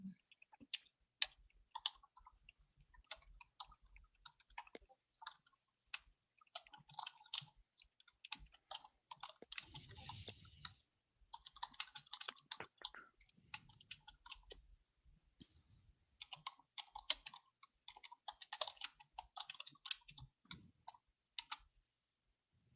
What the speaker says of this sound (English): I'm just typing some stuff in chat.